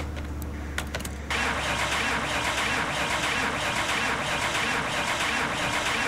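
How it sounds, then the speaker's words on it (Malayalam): A car in Car Mechanic Simulator 2021 with a suspected spark plug fault cranks without catching: a few sharp clicks, then a continuous loud, even grinding churn that runs on for several seconds and never settles into an idle. "വണ്ടി സ്റ്റാർട്ട് ചെയ്യാം."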